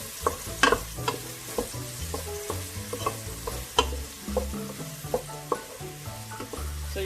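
Chopped onions frying in a pot for spinach stew, stirred with a spoon that knocks and scrapes in irregular close taps over a steady soft sizzle, with no talk.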